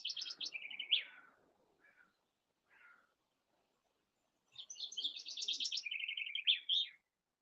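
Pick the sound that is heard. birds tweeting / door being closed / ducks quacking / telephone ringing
birds tweeting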